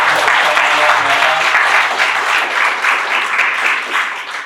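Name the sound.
audience applause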